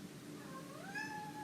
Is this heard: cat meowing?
yes